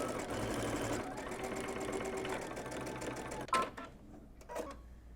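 A sewing machine runs in a steady rapid whir for about three and a half seconds while under stitching fabric, then stops, leaving a few quiet clicks and handling sounds.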